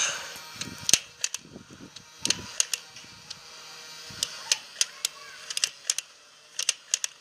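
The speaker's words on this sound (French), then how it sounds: "Et voilà, j'ai tiré les 3 balles d'un coup." An electric Nerf Barricade RV-10 blaster fires three darts at close range, giving a scattered run of sharp mechanical clicks and snaps over a faint motor whir, with no talking.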